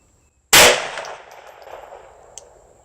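A single sharp report from an antique pistol fired at a target at close range, followed by a long decaying echo and a faint metallic clink near the end.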